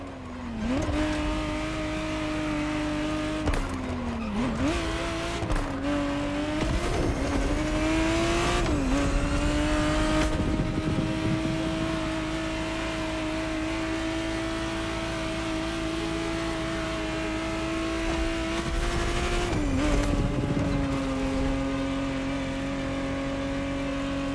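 A 1991 Ferrari 512 TR Testarossa in The Crew Motorfest, its engine droning steadily and close, with several brief dips and rises in pitch between gear changes and throttle lifts, continuing without any talk.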